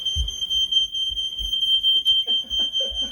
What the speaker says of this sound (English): You're setting off the fire alarm.